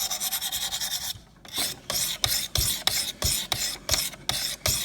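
A knife blade is stroked across the stones of a Wicked Edge sharpener to remove the burr, giving a run of quick rasping scrapes and then a slower series of about a dozen distinct strokes, close and alone.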